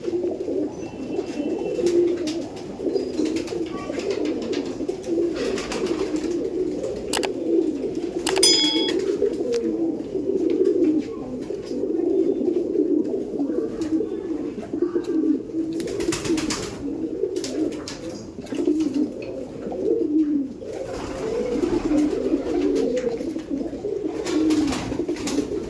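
Imported Giribaj pigeons coo steadily and fairly loudly throughout, a dense overlapping chorus of soft throaty calls with no voices.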